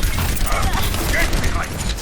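Gunfire in the video game Overwatch, a dense, continuous barrage of shots and impacts mixed with game effects and a voice talking over it throughout.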